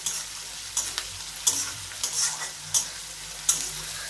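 Onions fry in a pan over a low gas flame, making a continuous soft sizzle punctuated by several sharp spoon scrapes and taps against the pan, heard up close with no talking.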